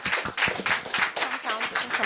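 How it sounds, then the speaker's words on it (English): Crowd applause with scattered clapping that rises and falls at a school event, while a voice talks over it. "Round of applause for that energy."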